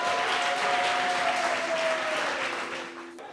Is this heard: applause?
yes